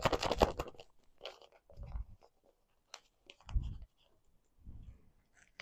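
Paper is crunched and crinkled by hand in a few short, close bursts of crackling separated by quiet pauses.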